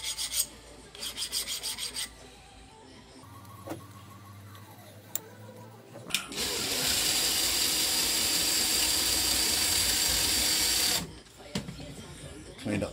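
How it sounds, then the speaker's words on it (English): Machined metal parts are deburred for a custom dagger build, with short scraping file strokes followed by a long, steady abrasive grinding rasp lasting several seconds, close and loud, then quieter scraping at the end. "So I'm going to deburr this, pop them in the other way, do the other side."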